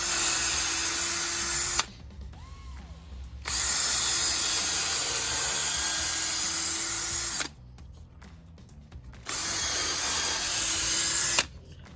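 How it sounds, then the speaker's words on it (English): A hand ratchet tightens bolts through wooden deck framing beneath a roofed gazebo, with long stretches of steady close clicking broken by two short pauses, alone with no talk. "It's going to be a good old ratchet to get them in, but by using the clamps, that'll press it in, so I'm ratcheting it"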